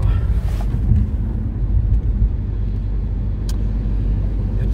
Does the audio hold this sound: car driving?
yes